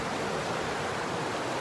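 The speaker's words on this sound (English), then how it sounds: "That sound you can hear, we're sitting right next to Mission Creek." Mission Creek rushes past at close range, a dense, unbroken wash of flowing water with no pauses or other sounds over it.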